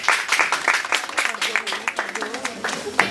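Scattered, uneven clapping from an audience at a talk, with distinct individual claps standing out over a low murmur of voices.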